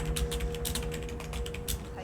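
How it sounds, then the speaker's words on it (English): Rapid keyboard-style typing clicks from the video game OneShot patter steadily over a constant low electronic hum, close and continuous. "Typing noises."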